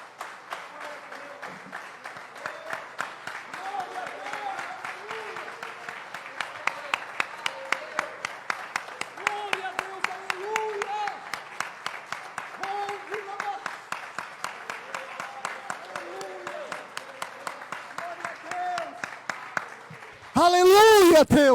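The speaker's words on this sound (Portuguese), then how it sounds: "Você pode aplaudir o Senhor Jesus?" A church congregation claps in a steady rhythm, the beats running evenly for about twenty seconds beneath a voice and tonal sound, before a louder burst at the very end.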